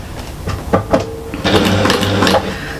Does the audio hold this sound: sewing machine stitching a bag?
yes